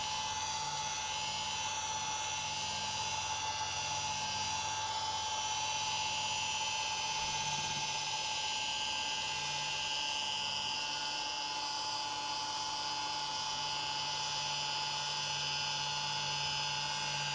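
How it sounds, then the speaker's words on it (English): A machine polisher runs continuously on a sanded BMW M4 bumper, producing a steady high whine with a constant drone, fairly quiet and unbroken throughout. "I'm also making sure to polish a good bit outside the area that was sanded"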